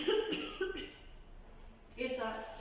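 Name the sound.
patient coughing during forced expiratory technique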